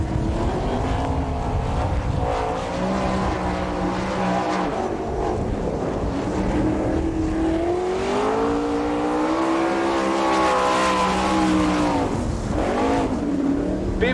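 An outlaw sprint car on a qualifying run at a dirt speedway in Woodstock, Georgia roars loudly and continuously, its engine note rising and falling through the corners, with wind buffeting.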